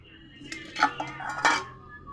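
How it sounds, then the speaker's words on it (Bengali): A metal lid is set onto a pot of kaon rice and coconut payesh left to steam, with a few light clanks and scrapes of cookware, faint and close. "আবার আমি ঢাকনা দিয়ে দিব আর দমে রাখবো"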